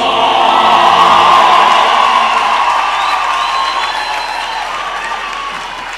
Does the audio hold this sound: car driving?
no